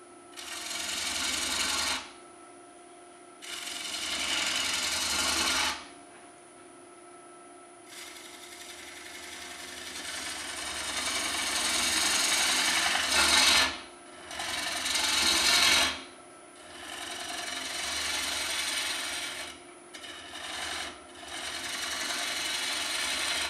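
A lathe turns a tenon on a large rough maple bowl, the gouge cutting with a steady scraping, rasping roar in long passes broken by brief pauses, close and continuous with a faint motor hum underneath.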